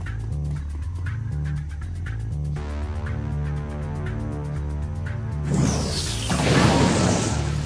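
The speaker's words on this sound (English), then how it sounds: "Explosion." A video game explosion bursts in loud and broad after a stretch of steady game music and rhythmic ticking, its roaring wash swelling and then trailing off.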